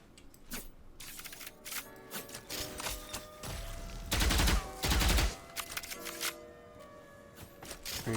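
Gunfire in the video game Valorant: bursts of sharp shots in uneven clusters, loudest in a dense volley near the middle, alone without talk.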